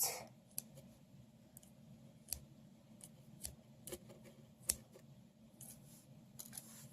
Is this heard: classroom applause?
no